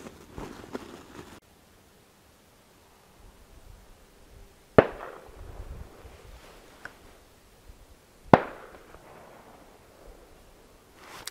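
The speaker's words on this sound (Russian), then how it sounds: "С креста стреляют" Two sharp shotgun blasts from a duck hunt crack out several seconds apart, distant and echoing over quiet outdoor ambience with faint rustling.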